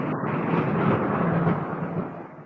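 Thunder from lightning during a storm rolls as a loud, continuous low rumble that swells and slowly fades over a couple of seconds, heard downtown.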